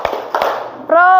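A group of students at an Indonesian madrasa clapping the tepuk lima rhythm, with a few sharp claps near and loud, followed by a sustained sung or called tone.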